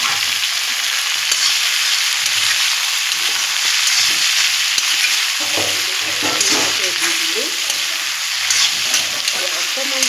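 Okra and potatoes fry with onions and green chillies in a pan, giving a steady, close, loud sizzle with scattered stirring scrapes throughout.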